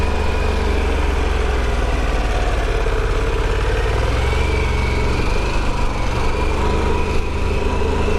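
A Harley-Davidson Pan America motorcycle engine runs with a steady, close, continuous low drone and mild throttle variation throughout, and no one talking.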